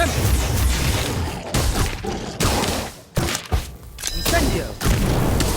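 A Sectum Sempra spell is cast in Harry Potter Magic Awakened, a loud crashing, booming blast amid dense battle effects and thuds, with voices mixed in.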